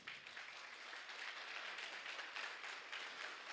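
A church congregation applauding, a dense, even wash of many hands clapping at moderate distance, sustained for a few seconds without talk.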